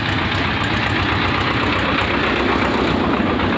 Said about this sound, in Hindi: ये यहाँ से भी आप देख सकते हैं इस एंट्री से ट्रैक्टर को आते हुए।